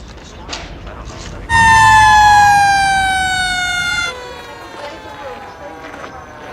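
An ambulance siren from The Godfather film sounds loud and close in a sustained, slowly falling wail, then continues more faintly beneath background noise.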